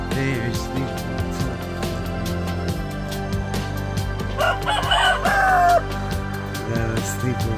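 Young roosters crow repeatedly in a backyard flock at bedtime, with loud strained cock-a-doodle-doos rising among soft clucks and low background hum.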